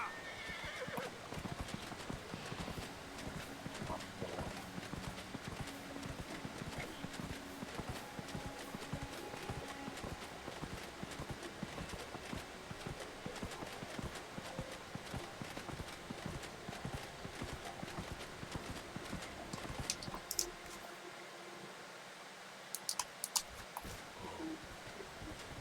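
Video game horse hooves clip-clopping at a steady run with occasional neighs, heard continuously at a moderate level amid game ambience, with a voice speaking briefly near the end.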